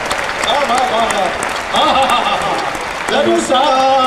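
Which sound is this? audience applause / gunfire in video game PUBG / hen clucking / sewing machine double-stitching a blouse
audience applause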